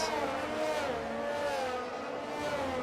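Race cars in the F1 22 video game at the Japan round, a dense pack of high engine whines overlapping at the start, with steady layered revving at moderate loudness.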